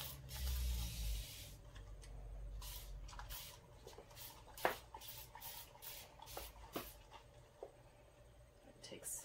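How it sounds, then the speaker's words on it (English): A non-aerosol mister sprays water in short bursts while wallpaper is being applied to furniture, with about a dozen quick hissing puffs spread across the span, fairly close and moderately loud, and a person talking at the start. "It's kind of like a non-aerosol spray"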